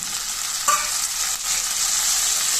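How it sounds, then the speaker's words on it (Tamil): Tomato and tamarind fry in a hot pan, giving a bright, loud, continuous sizzle with a quick stirring scrape near the start. "சேர்த்துட்டு எல்லாம் நல்லா வதங்கி வர அளவுக்கு வறுத்து விட்டுக்கலாம்"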